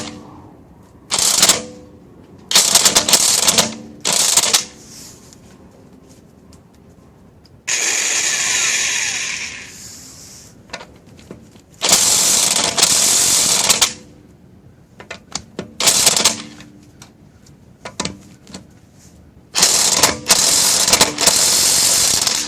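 A Harbor Freight 1/2-inch electric impact wrench hammering on a dealer-tightened bolt, firing in several loud, rattling bursts of a few seconds each, separated by quiet gaps, close by.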